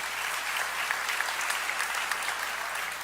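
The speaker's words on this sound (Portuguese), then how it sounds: "Você pode aplaudir ao Senhor pela vida do Saulo." A church congregation applauds at an evening service, dense steady clapping from many hands filling the room evenly from start to finish.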